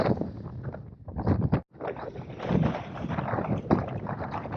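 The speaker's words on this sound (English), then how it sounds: "It's a bit windy here" Steady broadband wind rumble buffets the microphone, loud and continuous, with a brief dropout partway through.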